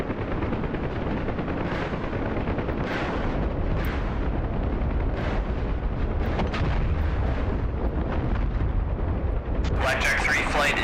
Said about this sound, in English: Alright, we've got rockets selected. We are going to hit this mortar position here